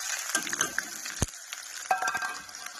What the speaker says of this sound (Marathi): आपलं राईचं तेल गरम झालेलं आहे आता टाकते मी कांदा